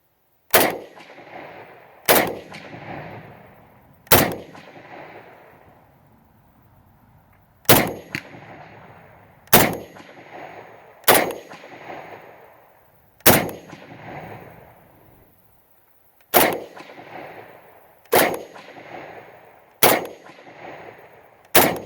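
Rifle shots ring out one at a time at a pumpkin sitting on an outdoor range backstop, about a dozen loud, sharp cracks spaced a second or two apart, each trailing off in a short echo.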